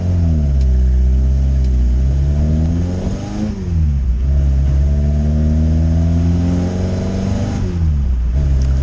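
Engine of a Fiat X car on its first test drive after a custom exhaust build, droning steadily and revving up and down in smooth waves, loud and close throughout with no talking.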